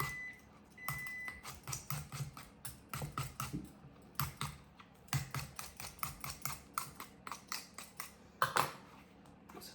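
An apple being peeled with a knife over a bowl: a run of short, crisp cutting and scraping ticks in an uneven rhythm, close and fairly quiet, with no talk.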